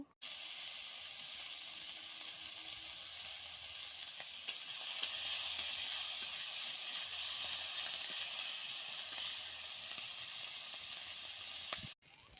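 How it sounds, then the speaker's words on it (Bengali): Prawns frying in hot oil in a wok, giving a continuous close hiss and sizzle that holds steady for the whole stretch and then cuts off abruptly near the end, no talking. "কড়াতে একটু তেল দিয়ে দেবো চিংড়ি চিংড়ি মাছগুলো একটু ভেজে নেব"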